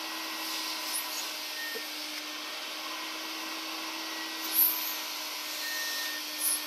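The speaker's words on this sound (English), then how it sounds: "Now we'll just follow up with a dry vacuum and let it pull all that dirt and gunk" A dry vacuum cleaner runs steadily over a cloth car seat, giving a constant close whining hum with a couple of brief sucking surges.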